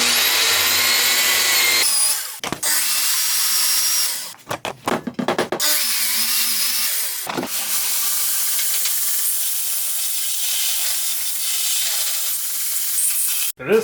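A power tool saws and grinds through a car radiator from a Nissan Cefiro engine build, a loud steady hiss that stops and restarts in several short bursts partway through, with no talking.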